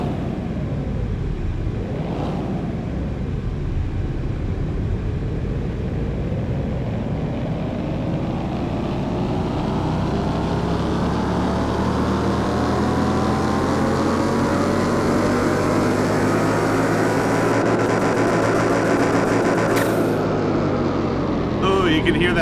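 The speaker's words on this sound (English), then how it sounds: "You can hear that turbo at the end." A turbocharged car engine in Car Mechanic Simulator 21 revving up on a dyno, pitch sweeping down then climbing steadily in a long sustained pull, with turbo whine and a brief flutter near the end, loud and close.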